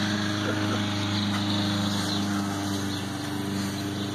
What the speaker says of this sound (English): Somebody's back here with a friggin' chainsaw.